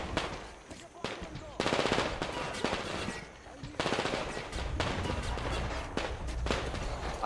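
Rapid bursts of automatic gunfire in the video game Metro Exodus crackle in quick succession, some sustained for over a second, with brief gaps between volleys.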